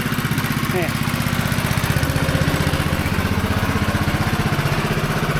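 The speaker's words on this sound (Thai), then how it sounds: "ก็อาจจะเสียงดังหน่อยครับเพราะว่า ตรงนี้เขาติดเครื่องยนต์ตรงนี้ครับ" A small engine driving a water pump for house washing runs loud and steady at close range, its rapid even throb filling the whole stretch without change.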